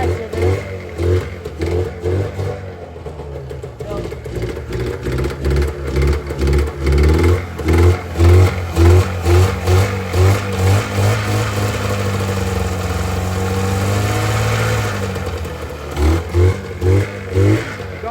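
Arctic Cat 440 snowmobile engine with a carburetor problem, rough and loud up close, revving in repeated rhythmic surges before settling into an unsteady, faltering run.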